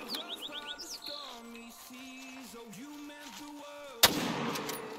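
A single sharp gunshot cracks in theHunter: Call of the Wild during whitetail deer hunting, loud and sudden near the end, following a stretch of game ambience with chirping bird calls and faint tones.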